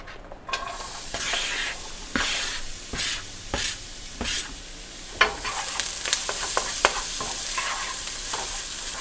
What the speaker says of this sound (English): In the pan, we're going to start sauteing the onions.